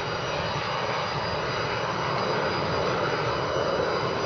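Jet engine roar of a McDonnell Douglas DC-9-32 during a touchdown replay in a flight simulator, a steady, loud broadband rumble with a constant high whine, continuous for the whole stretch with no talk.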